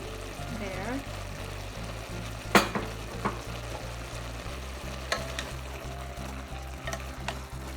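Noodles and vegetables with teriyaki sauce sizzle and fry in a pan while being stirred, giving a steady hiss with scraping and occasional sharp clinks of a utensil against the pan.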